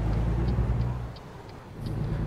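Steady low engine drone of a truck driving in the game American Truck Simulator, with faint periodic ticking like a turn signal over the continuous rumble, no talking.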